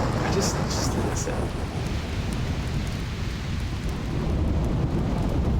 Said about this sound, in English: Thunder, the lightning.